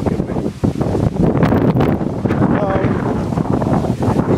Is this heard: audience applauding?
no